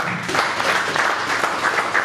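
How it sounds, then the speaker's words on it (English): Applause from an audience at a Nigerian master class on billionaire keys, a dense steady patter of many hands close by, with no voices over it. "A round of applause for that"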